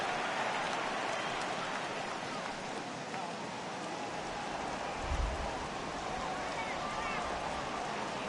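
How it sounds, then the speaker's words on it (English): Heavy rain pours steadily at a ballpark during a Redbirds at Cubs baseball game, a dense, continuous hiss that fills the whole clip, with one brief low thump partway through. "Well, that rain is really coming down right now."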